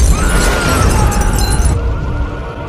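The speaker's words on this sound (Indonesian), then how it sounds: "mobil itu meledak" A car explodes in a film scene, a loud broadband blast with crackling, shattering debris that stays dense and then gradually thins and fades.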